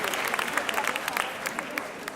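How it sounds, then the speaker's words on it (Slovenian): An audience at an award ceremony applauds the first rock and roll dance performers, steady dense clapping from many hands throughout, with voices mixed in under it. "Dajmo lep aplavz za naše prve nastopajoče."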